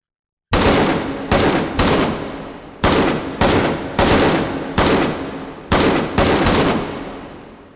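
Eight loud, close AK rifle shots fired one at a time in the H3VR virtual reality game, each a sharp crack with a short decaying tail, spaced unevenly with no talking.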